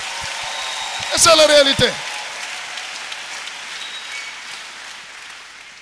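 A church congregation claps in praise of the Lord, a steady wash of applause running all the way through while a voice speaks over it.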